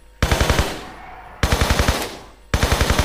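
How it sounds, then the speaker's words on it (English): Lara's gun firing in Tomb Raider III, three loud bursts of rapid automatic gunfire, each a tight string of cracks followed by a ringing decay before the next burst starts. "Yep, just keep firing, Lara, don't stop."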